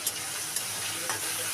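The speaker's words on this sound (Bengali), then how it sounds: "ওই কড়াইতেই কুচো চিংড়িগুলো ভেজে নেব।" Small shrimps fry in a wok, giving a soft, steady hiss with a few quick scraping stirs at regular intervals, faint and brief.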